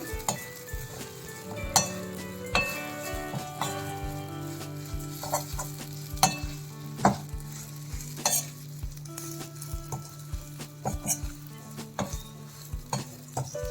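Moong dal button idlis tossed and stirred in a pan with seasoning, repeated scraping and clattering spoon strokes over a soft sizzle, close and fairly quiet, no talking.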